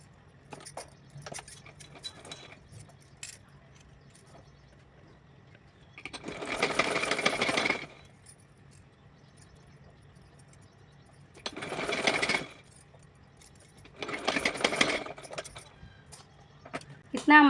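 Sewing machine stitching folded, doubled fabric for a small fancy dress for a size 5-6 Kanha ji idol. It runs in three short bursts of rattling stitching, each one to two seconds long, separated by quiet pauses with light handling clicks.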